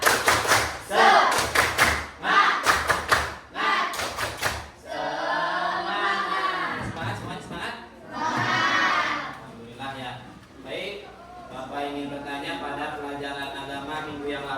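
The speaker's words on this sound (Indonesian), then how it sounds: "Tepuk semangat dulu, tepuk semangat." A classroom of Islamic education students performs the rhythmic 'tepuk semangat' group clap, sharp synchronized bursts of hand claps in a patterned beat, followed by the teacher and students talking and chanting together.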